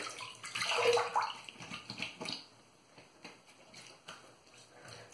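A razor is rinsed under a running tap, giving a loud splashing burst of water for about two seconds that then settles into quieter trickling and faint splashes.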